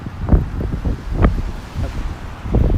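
Gusty wind along the Narrows waterfront in Bay Ridge, Brooklyn, buffets the microphone in loud, uneven low-pitched bursts over a steady airy rush.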